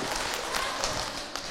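An audience claps steadily for a religious preacher at a talk show taping, a dense, continuous patter of many hands at moderate volume that runs the whole time with no voices over it.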